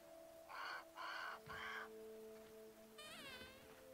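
Crow cawing in the video game Grounded: three loud, harsh caws in quick even succession, followed by a warbling, wavering call over a faint ambient hum.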